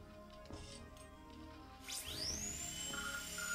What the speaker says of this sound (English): Press the A button to begin drilling.